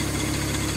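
The HydrosPlus power comparison apparatus, linked to a John Deere 1025R Turbo, runs steadily at about 230 RPM with a continuous mechanical engine drone and slight vibration throughout.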